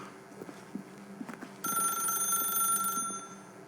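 A telephone rings in the video game The Stanley Parable, a bright electronic trill that starts abruptly partway in and holds steady for over a second, after soft scattered knocks.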